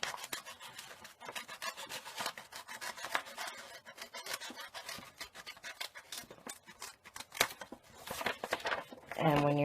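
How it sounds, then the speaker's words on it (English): Regular scissors snip through a small fabric bag, cutting a wavy edge, with rapid close crisp slicing and rasping strokes, faint and steady. "So I'm just cutting a nice little wave."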